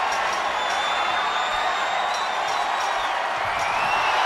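A wrestling arena crowd at a Hell in a Cell ironman match roars and cheers in a steady, dense wash of noise, with whistles and shouts over the top.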